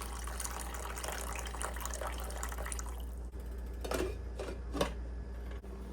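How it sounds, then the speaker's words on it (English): Water pours into a pot while mole is being cooked, a steady close splashing and filling gush followed by a few drips and clinks. "We'll put the water in."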